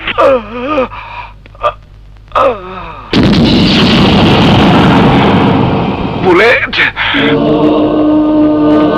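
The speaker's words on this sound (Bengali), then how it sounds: "তুই আমাদের গুলি করে দিলি বুলেট ভাই" In a Bangla movie scene, a sudden loud burst of gunfire erupts and roars on for several seconds, with shouting and anguished voices before and after it.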